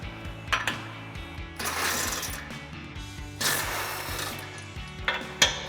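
A 21mm socket on a ratchet works loose the factory tow hook bolts on a Jeep Wrangler JL, giving a few close, irregular bursts of clicking and metallic rattling with short pauses between.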